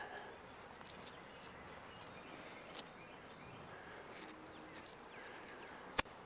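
Honeybees buzzing faintly around a hive that swarmed, a low continuous drone heard from close by, with a sharp knock near the end.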